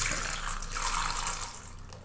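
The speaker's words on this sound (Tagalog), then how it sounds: "And then lalagyan lang natin siya ng tubig." Water pours steadily into a cooking pot for a traditional yellowfin tuna stew, a continuous rushing splash lasting about two seconds with no talk.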